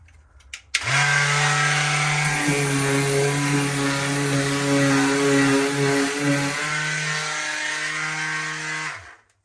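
A power sander without sandpaper runs on a bathroom ceiling, starting abruptly with a loud steady hum and buzz that shifts pitch slightly partway through, then cuts off, no speech.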